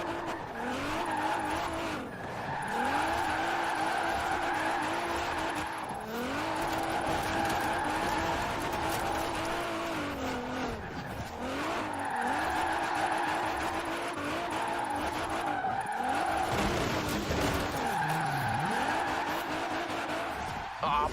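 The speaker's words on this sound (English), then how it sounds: "Now let's really shred those tires." Car drifting in the racing game Forza Horizon 4, engine revving up and down in repeated cycles with tires squealing and skidding through each slide, loud throughout, with occasional voices.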